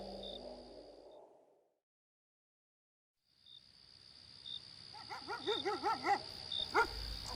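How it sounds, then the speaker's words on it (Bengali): A dog barks and whimpers in a quiet rural night, a short burst of repeated yelping barks over a thin, steady insect chirr, after a nearly silent stretch, eerie and set back at a distance. "দূরে তখন কুকুর ডাকছিল"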